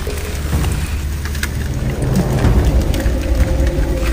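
Steady rain pours down with a dense, continuous hiss and low rumble, holding at an even loudness throughout with no voices.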